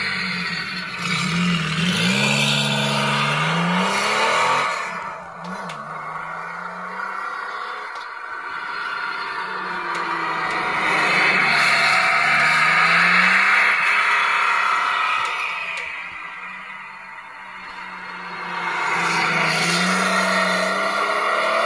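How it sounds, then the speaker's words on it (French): A recorded Porsche Carrera RS engine of 210 horsepower, played from a miniature model kit, revs up and down in long swells, a loud, close growl rising to a high whine and falling back, with no voices. "Donc ça vous permet vraiment d'avoir un aperçu sonore du moteur de 210 chevaux"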